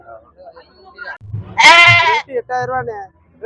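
Goats and sheep bleat at a weekly Friday goat market in Ettayapuram, Thoothukudi district, one long loud bleat standing out among shorter nearby calls, with people talking close by.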